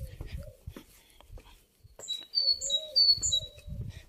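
Small birds chirp and whistle in a sunny, breezy home garden in Turkey, bright calls bunched in the second half of the clip, with rustling and soft low handling noises around them.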